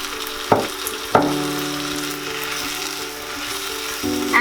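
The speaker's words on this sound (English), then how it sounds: "To this now I'll add in my chopped tomatoes," Chopped tomatoes go into a pan of frying ginger and garlic for Indian egg keema, setting off a loud steady sizzle, with two sharp clatters near the start and a brief scrape toward the end.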